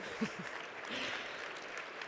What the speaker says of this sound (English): You can applaud Otto, obviously.